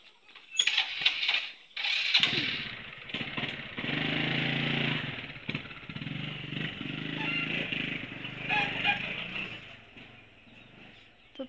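Motorcycle engine idling and revving close by, a steady buzzing drone with brief louder bursts.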